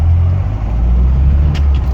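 A car passes along a road at night amid traffic, a loud, close engine rumble that swells and holds steady as the vehicle goes by.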